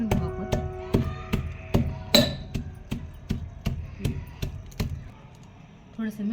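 Green chillies with cumin and ajwain being chopped finely on a board at a rural wood-fired stove, a steady run of sharp, close knife strikes at an even rhythm with a brief clink in the middle, tapering off before a short pause.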